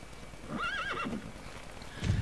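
A horse in the video game Star Stable gives a clear, wavering whinny lasting about half a second, followed by a soft snort and a brief hoof thump, with no talking over it.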